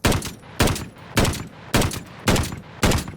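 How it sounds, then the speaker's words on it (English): M1916 marksman rifle firing in Call of Duty Vanguard: six sharp, loud shots at a steady rhythm about half a second apart, each with a brief decaying tail, and no talking. "Let's actually fire it and aim down sight."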